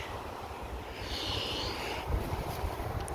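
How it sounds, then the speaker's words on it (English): Steady outdoor wind gusting through a fall tomato garden, a continuous broadband rush with low buffeting rumble against the microphone. "There's that wind."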